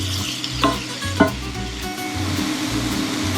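Morels and stinging nettles fry in a pan, a steady close sizzle with a few scraping stirs and light clinks of the utensil against the pan.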